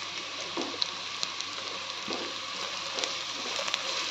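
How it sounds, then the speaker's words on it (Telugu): Ginger garlic paste with a little turmeric fries in a pan for egg biryani, giving a steady, close hissing sizzle with faint stirring scrapes and small pops throughout. "అల్లం వెల్లుల్లి పేస్ట్ వేసుకుని పచ్చివాసన పోయేంత వరకు బాగా ఫ్రై చేసుకోవాలి."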